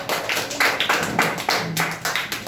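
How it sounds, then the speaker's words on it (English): Audience at a public speaking competition claps for a student speaker, a loud, close round of distinct hand claps in quick, slightly uneven rhythm. "Well done, clap for Yogesh."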